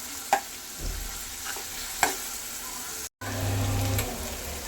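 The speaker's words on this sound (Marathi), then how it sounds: "कांद्याचा अगदी रंग बदलेपर्यंत तेलामध्ये व्यवस्थित परतून घेऊ" Chopped onion sizzles in hot oil, with a steady frying hiss broken by a few sharp scrapes and clatters of a spoon stirring the pan, close and moderately loud with a brief dropout midway.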